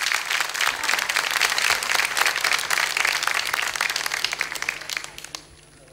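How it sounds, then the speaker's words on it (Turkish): A concert-night audience in a Turkish music evening claps in a dense, loud burst that holds steady and then tapers off to quiet near the end. "Alkışları yükseltiyoruz ama değil mi sevgili misafirlerimiz?"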